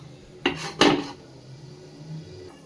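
A metal pot lid set down over a pan of Bengali fish curry, two quick clattering clinks close by, then a quiet low simmer.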